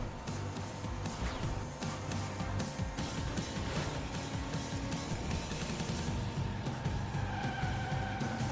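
Cars skidding and revving in a car combat video game, with continuous engine roar and tire screeches layered over busy game sound effects at a steady, fairly loud level.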